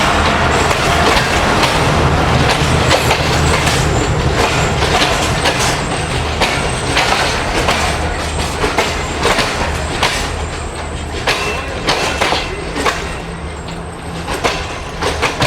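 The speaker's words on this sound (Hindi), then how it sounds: "कराची और रावलपिंडी के दरमियान चलने वाली पाकिस्तान की लेजेंडरी ट्रेन तेज़गाम है ये।" Pakistan Railways' Tezgam express train runs between Karachi and Rawalpindi, a loud, dense, continuous rumble of rolling stock with rattling wheels and clatter throughout, heard up close.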